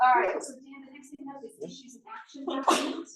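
A single sharp sneeze in a meeting room during an annual meeting, sudden and close, with someone talking steadily around it.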